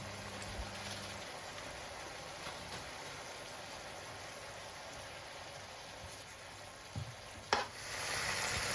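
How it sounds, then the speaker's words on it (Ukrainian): Steady, soft sizzling of mushrooms and onions frying in a pan, a constant crackling hiss with a couple of brief clatters near the end. "Далі смажимо до золотистого кольору."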